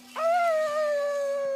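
A person imitates a wolf howl with one sustained, wavering voiced tone that rises at the onset and holds steadily, loud and close, with no other sounds around it.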